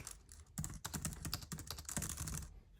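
Keys on a Tibuta Masterpad W100 keyboard clatter in a quick, irregular run of sharp clicks, close and distinct, with no talking.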